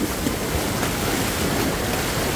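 Floodwater surging over a dam during Storm Julia, a loud, steady broadband roar of rushing water mixed with wind buffeting the microphone, with no voices.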